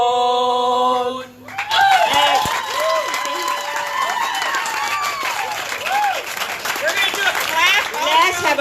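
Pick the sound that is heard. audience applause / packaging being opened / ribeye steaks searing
audience applause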